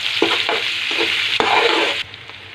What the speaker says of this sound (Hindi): अब हम उसी ऑयल में प्याज ऐड करेंगे। बिस्मिल्लाहिर्रहमानिर्रहीम। और इसको भी 5 से 10 मिनट अच्छी तरह पका लेंगे।